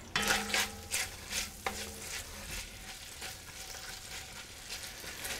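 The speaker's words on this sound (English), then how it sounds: "So now I want to return my browned meat. To the pan with any juices that have collected in the bottom of that skillet." Browned pork and its collected juices go back into a hot skillet for rigatoni ragu. A burst of sizzling and stirring scrapes opens loudly, then settles into a softer, steady frying hiss.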